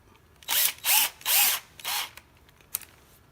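A power drill drives a bolt into a helmet headstrap knob in four short whirring bursts, close and fairly loud, followed by a faint click.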